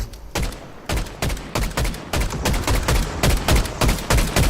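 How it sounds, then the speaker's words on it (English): Rapid bursts of gunfire in the video game Fortnite, a dozen or so sharp shots in quick irregular succession, loud and close, with no talking over them. "missed some wide open shots there"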